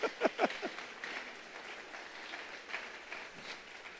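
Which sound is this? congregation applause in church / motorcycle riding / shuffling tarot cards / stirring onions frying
congregation applause in church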